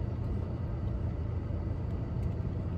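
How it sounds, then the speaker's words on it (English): Cars rolling past on a street, a continuous low rumble and tire roar close by, fairly steady with slight surges, no voices over it. "These cars just passing by me and in my video."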